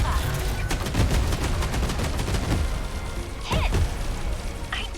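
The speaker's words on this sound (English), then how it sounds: "So let's use the attack cannons for the back." Attack cannons firing in the video game 13 Sentinels, a dense run of rapid booming bursts and crashes packed close together over the whole stretch, loud and continuous with a few sharper whooshing impacts near the end.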